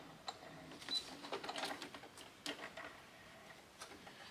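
A sewing machine backstitches the ends of a tote bag seam, short bursts of stitching starting and stopping, running forward and back in uneven spurts, fairly quiet and close.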